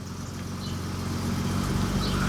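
A BMW E30-era car engine idling after a high-pressure fuel pump and filter replacement, a low steady hum with a faint rhythmic pulse that grows slightly louder toward the end.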